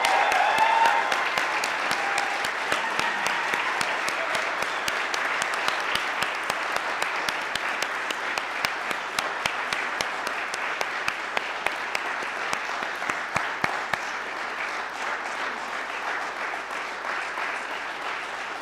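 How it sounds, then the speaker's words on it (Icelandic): Long, warm applause for new graduates at a school graduation ceremony in a hall, dense crowd clapping that holds steady before slowly thinning and fading toward the end. "Og nú ætlum við að gefa öllum virkilega gott klapp"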